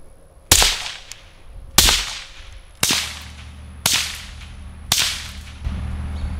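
Five suppressed shots from a 5.7mm pistol fitted with a Ruger Silent SR suppressor firing supersonic ammo, each a sharp loud crack with a short decaying tail, spaced about one second apart.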